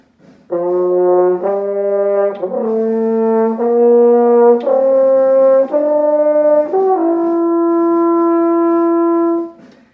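A French horn plays a slow rising scale, each sustained note clear and mellow, played solo at close range.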